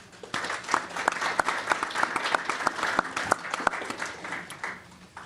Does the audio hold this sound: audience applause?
yes